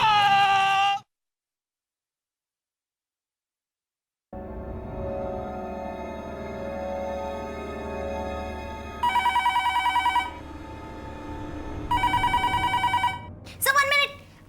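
Two telephones, one yellow and one red, ring in an office scene of a TV drama. A brief voice is followed by silence, then a low hum and repeated loud bursts of electronic ringing.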